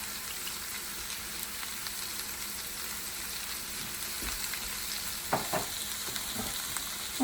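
Vegetables seasoned with taco seasoning fry in a pan over high heat, giving a steady soft sizzle with a few louder clinks and stirs near the end. Nobody speaks.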